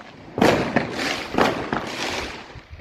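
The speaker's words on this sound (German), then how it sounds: "Lassen jetzt knallen." Small Funke Liliput rockets bursting outdoors, a series of sharp crackling pops and thuds spread over a few seconds, fairly near, with no talk over them.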